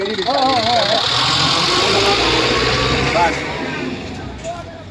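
A vehicle engine hums steadily as it rolls through the crowded Chalisgaon bullock market, with voices and calls around it before the engine noise drops away toward the end.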